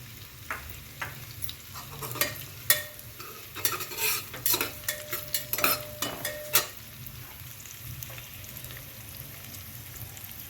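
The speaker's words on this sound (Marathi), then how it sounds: "हे आलं लसूण आणि मिरची आणि कढीपत्ता सर्व घालून घेऊया" Ginger, garlic, chili and curry leaves hit hot oil in a pan, giving a loud sizzle with sharp spattering crackles and stirring clatter through the middle, then settling to a steady low frying hiss.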